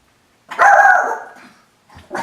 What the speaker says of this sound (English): And that is the puppy dog that I am making the treats for.